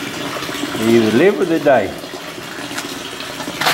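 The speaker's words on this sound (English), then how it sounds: "Slowly mix the water" Water is poured and slowly stirred into a fish tank, a steady splashing gush running beneath a loud nearby voice that talks over most of the sound.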